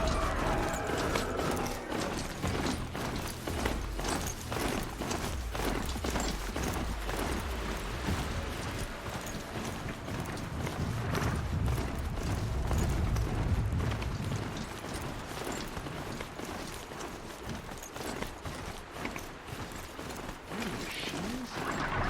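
A horse trots in Horizon Zero Dawn, with steady rhythmic hoof clip-clops and mechanical clanking layered over a dense game soundscape, loud and continuous throughout.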